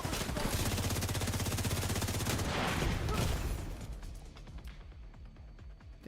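Riker turrets in The Division 2 fire rapid automatic bursts, a dense rattling fusillade that runs for about three seconds and then thins into scattered shots and impacts.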